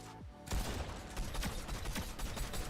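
Rapid bursts of gunfire crackle in quick succession, loud and sharp, like automatic weapons in an action game, with no talking.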